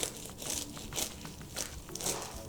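A serrated knife slices through a crisp, paper-thin layered phyllo pie filled with spinach and cheese, giving repeated close crunching and crackling bursts in a steady sawing rhythm with no talking.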